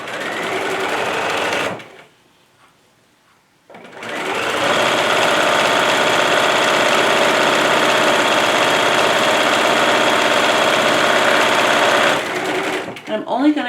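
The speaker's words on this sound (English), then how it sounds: "I'm going to raise my presser foot and pivot my fabrics and then" A sewing machine stitches fabric for a Valentine's Day bag in two loud, steady runs of rapid mechanical whirring, split by a brief pause as the presser foot is raised and the fabric pivoted.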